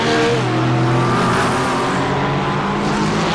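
Race cars battling wheel to wheel at Imola in a racing video game, including a BMW, with loud, steady engine roar and shifting revving pitch throughout, close and dense, with no talk over it.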